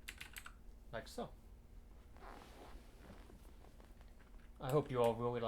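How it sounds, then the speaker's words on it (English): Computer keyboard typing during a math lecture on inclusion-exclusion, bursts of quick keystrokes with pauses between them, fairly close, followed by someone speaking near the end. "I hope you all really like typing as much as I did."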